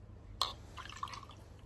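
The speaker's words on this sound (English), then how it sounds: "I'm going to pour this shot of juniper juice into this tumbler." A shot of juniper juice poured into a tumbler: a brief, quiet splash and a few soft drips in a hushed indoor setting, with no speech.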